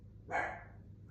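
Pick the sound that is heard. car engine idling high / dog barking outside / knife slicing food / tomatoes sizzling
dog barking outside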